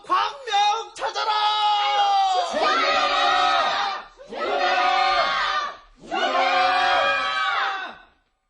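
Radio drama crowd shouting in unison, three or four loud, sustained chanted cries from many voices, separated by brief gaps, ending abruptly in silence.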